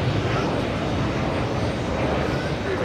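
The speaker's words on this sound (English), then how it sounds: "there's the liftoff for that beautiful Dreamliner" A Boeing 787 Dreamliner airliner lifts off at JFK airport, its engines a steady, broad roar heard from a distance, with no break in the noise.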